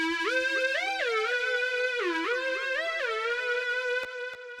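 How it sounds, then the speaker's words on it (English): Theremin-like synth lead in a darkwave production plays a gliding, sliding melody with smooth pitch bends and swoops, bright and sustained, alone without voices, briefly thinning near the end. "Theremin, of course,"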